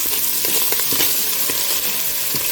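Smoked fish frying in a pan until golden, a steady close-up crackling sizzle with scattered pops and light scraping, no voices.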